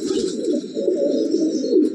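A short-beaked red-eyed pigeon gives a continuous low cooing drone, close and fairly loud, steady throughout without pause.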